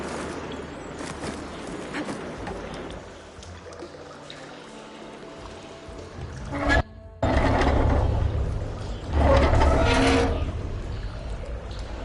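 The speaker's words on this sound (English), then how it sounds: "Aloy, I can hear water in the room again" Water pours into a room after a valve opens in the video game Horizon, heard as rushing, splashing bursts that swell and fade, loudest in the later half, over low game ambience.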